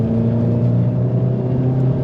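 A 2017 Volkswagen Golf GTI Mk7 with a DSG gearbox pulls hard under acceleration, heard from inside the cabin as a steady, loud engine drone with a low rumble that holds without a break.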